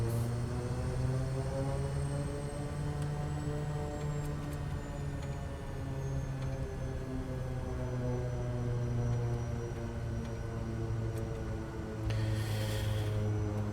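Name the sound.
Kodiak 100 turboprop engine at high idle before takeoff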